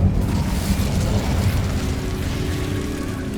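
A fire spell cast in the Hogwarts Legacy video game: a loud, sustained roaring whoosh of flame with rumbling low body, steady throughout and fading slightly toward the end.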